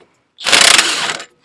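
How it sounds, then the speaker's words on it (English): Pry bar forcing a stuck lower strut bolt on a Dodge Grand Caravan, one short loud grinding scrape lasting under a second, close up and alone. "This bottom bolt's being a bit more persistent, so I'm just trying to sneak a pry bar in there."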